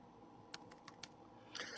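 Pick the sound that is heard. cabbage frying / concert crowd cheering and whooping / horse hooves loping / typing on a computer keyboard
typing on a computer keyboard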